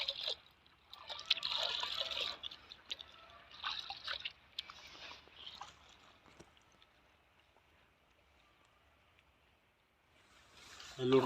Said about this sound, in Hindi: इसको ऐसे पानी में डाल के प्रॉपरली आप इसको घोल लीजिए दवा को